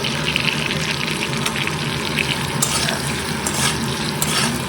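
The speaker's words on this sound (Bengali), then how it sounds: "ভালো করে তেলে ভাজবো। সব সবজি দিয়ে এবার ভালো করে কষাবো।" Mixed vegetables fry in hot oil in a pan, producing a loud, steady, close sizzle with stirring scrapes running through the whole stretch.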